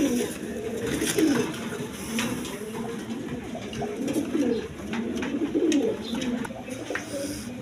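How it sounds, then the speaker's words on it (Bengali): A pair of Rajgolla pigeons at a pigeon seller's coo in low rolling bursts, moderately close, with faint background noise and no talk. "দশমিদা এখানে এক পেয়ার রাজগোল্লা কবুতর আছে"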